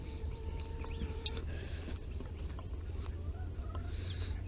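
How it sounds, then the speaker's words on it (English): Backyard chickens in a garden coop cluck and murmur close by over a steady low rumble of motion, with scattered short calls and a brief sharper squawk partway through; no talking. "So we'll say hi to the chickens."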